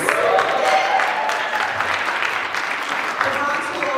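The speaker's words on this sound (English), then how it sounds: "The Bronx will always get some applause." An audience at a Garifuna heritage event in the Bronx breaks into steady, dense applause that fills the room, with cheering voices mixed in.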